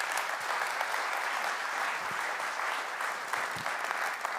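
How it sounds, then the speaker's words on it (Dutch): Audience applause at a panel event on economics and a future beyond growth: steady, dense clapping from a sizeable crowd, filling the room evenly from start to end with no speech over it. "Ik wil een davend applaus voor Lisa Mann maken"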